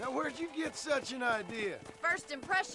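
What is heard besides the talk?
No everyday noises stand out.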